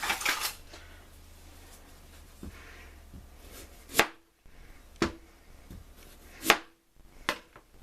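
Rutabaga skin is cut away with a knife on a cutting board, producing several sharp, isolated knocks spaced irregularly with quiet gaps between them, close and fairly crisp.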